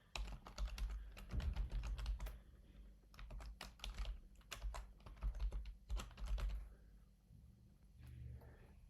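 Fingers type on a computer keyboard in a quiet room, quick bursts of close, crisp key clicks with short pauses between runs, ending in softer, scattered taps.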